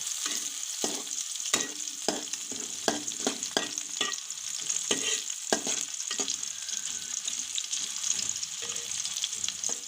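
Chopped onions frying in hot oil until brown for a coral fish curry, a steady bright sizzle with repeated sharp scraping stir strokes throughout, no voices.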